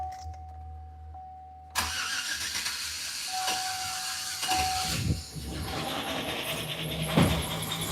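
A car engine cranks and catches with a sudden rough roar, then runs unevenly with a hissy, rattling tone, close by and loud, with no voices.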